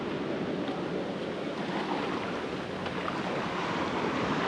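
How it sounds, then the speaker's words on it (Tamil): Big ocean waves crash and surge onto a beach at Trivandrum, a loud, continuous roar of surf with wind buffeting the microphone, steady throughout with no voices. "மறுபடியும் ஒரு பெரிய அலை."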